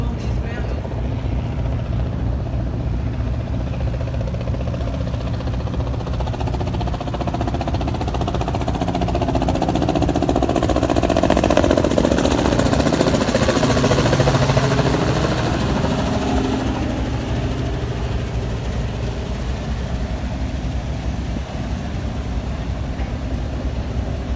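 A steady, loud engine rumble from a moving barge, swelling slightly midway, with a low drone throughout and water and wind noise.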